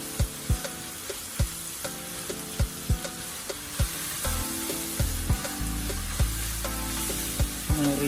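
Sauce for spaghetti Bolognese sizzling steadily in a pan while a utensil is stirred through it, regular knocks against the pan over a continuous frying hiss, close up and without talk.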